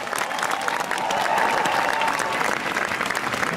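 An audience at the opening of the Europa-Park season claps loudly and steadily, dense applause holding at full strength throughout.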